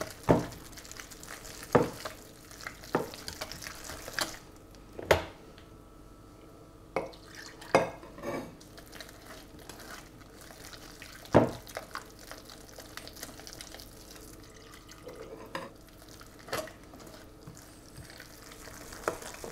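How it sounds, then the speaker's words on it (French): A whisk works butter and milk into sweet potato mash for a hachis parmentier, giving soft wet stirring with sticky squelches and sharp scrapes and taps against the bowl at irregular intervals, close by and without talk. "On va mélanger comme ça au fouet"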